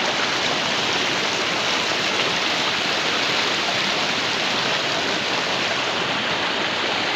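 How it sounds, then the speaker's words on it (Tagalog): A river rushes past nearby in a steady, loud, unbroken wash of flowing water, with no voices. "Ayan, nandito sa ilog."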